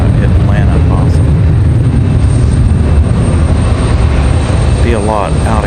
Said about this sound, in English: Next up, Delta, another 737 at 900